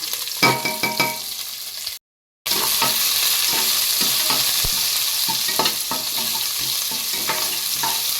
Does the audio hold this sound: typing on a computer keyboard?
no